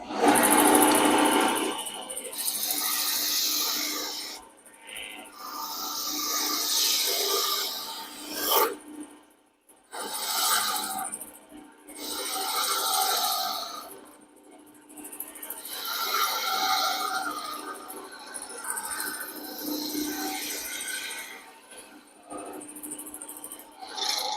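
Woodturning lathe cutting a slight cove into a wooden candle stick holder: a continuous rasping, scraping rub that comes in long sustained passes with brief breaks between cuts, close and fairly loud.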